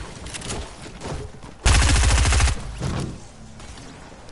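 Rapid submachine gun fire in a video game, a dense loud burst of about a second standing out from quieter game sounds and scattered shots around it.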